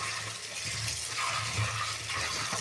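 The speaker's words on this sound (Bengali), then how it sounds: "জলে ধুয়ে নেব" Running water pours steadily over chopped kochur loti (taro stolons) being washed in a home kitchen, a continuous gushing splash with no one speaking.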